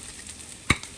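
Meatballs sizzle in a pan on a stove at low-medium heat, a soft continuous hiss broken by one sharp scrape of a utensil in the pan, close up with no talk.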